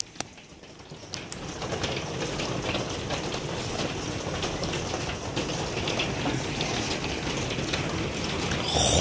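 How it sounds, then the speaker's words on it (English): Steady rain falls during a night storm, a continuous dense patter that holds at an even level throughout and swells slightly louder near the end, with no voices. "I hear like a freaking raindrop."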